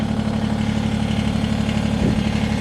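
A tractor engine idles close by on a wooded trail, a steady low mechanical throb with even pulsing and no voices.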